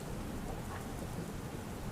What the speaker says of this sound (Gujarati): વહેલી સવારથી જ વલસાડ જિલ્લાના અંદર વરસાદ વરસી રહ્યો છે।